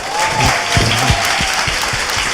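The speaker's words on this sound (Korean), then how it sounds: "다시 박수" An audience applauds in a studio, a dense burst of clapping lasting a couple of seconds, close and loud, with faint voices underneath.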